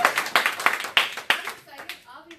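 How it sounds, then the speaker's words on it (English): A small group at a team meeting claps in a short burst of uneven, overlapping claps that fade out after about two seconds, with light voices and cheering mixed in. "Give us a round of applause for Mega Camp."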